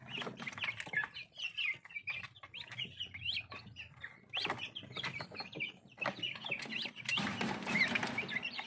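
Bangkok chickens cluck and crow on a farm, with birds calling repeatedly at close range in an irregular chatter, joined by a busier burst near the end; Muscovy ducks are kept there too.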